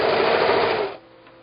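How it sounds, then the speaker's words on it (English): A sewing machine stitches a quilt seam, a loud close steady whir of rapid needle strokes that stops abruptly after about a second, leaving quiet room tone. "I want you to watch as I sew over this V so you will see where you're supposed to sew."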